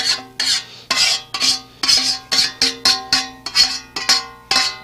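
Onions laid into a hot frying pan, with a string of sharp sizzling, scraping bursts at a steady rhythm, close and loud, each followed by a brief metallic ring.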